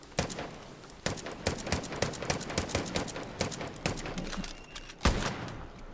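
Rapid gunfire in the video game Far Cry New Dawn: a dense run of sharp shots in quick irregular bursts, with a few louder isolated cracks.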